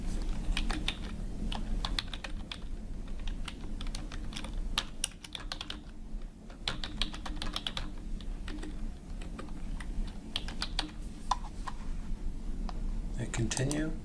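A username is typed on a computer keyboard in a quick, uneven run of close key clicks. There are brief pauses between bursts, and the clicking carries on for the whole stretch.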